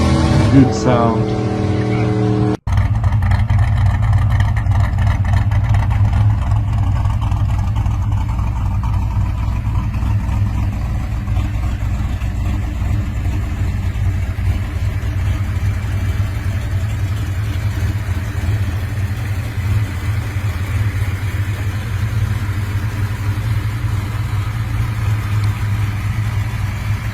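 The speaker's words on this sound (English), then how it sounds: "Twin carburetor, oh, big engine." A pro street muscle car with a big engine and twin carburetors rumbles with a loud, continuous deep tone, with a sharp higher sound at the start before a steady heavy drone.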